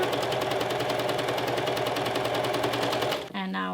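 A sewing machine runs steadily, stitching gather threads into the lower edge of a puff sleeve for a western blouse, with a fast, even mechanical whir that stops abruptly near the end.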